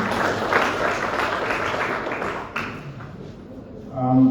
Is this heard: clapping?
yes